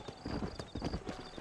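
Horse hooves in Red Dead Redemption clip-clop in a quick, even rhythm, close and moderately loud, over a short stretch of ride with faint background ambience.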